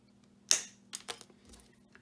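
Long nose pliers cutting lead came for a leaded glass lantern: one sharp close snip followed by a couple of smaller clicks, brief and alone.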